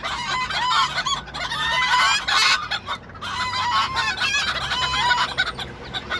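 Chickens cluck and a rooster crows loudly and close by, over and over, as a newly hatching chick struggles from its egg nearby.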